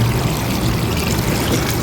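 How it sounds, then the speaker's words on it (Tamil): Water pours steadily into a large batch of mutton for Dindigul-style biryani, a continuous close splashing rush lasting about two seconds with no talking. "மட்டனுக்கு தண்ணி ஊற்றிக்கலாம்."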